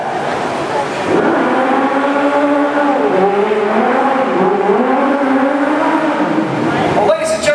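A stunt show hero car drives onto the set at Lights, Motors, Action! Extreme Stunt Show. The engine revs loud and close with rising and falling pitch, and an announcer talks over it.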